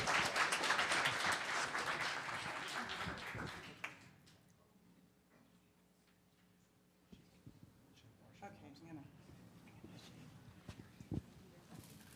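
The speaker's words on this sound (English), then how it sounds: "How about a big round of applause for Ms. Diane Goldberg?" At a Los Gatos town council meeting, the audience claps for Ms. Diane Goldberg in a dense burst that fades out after about four seconds, leaving quiet room rustles and small knocks.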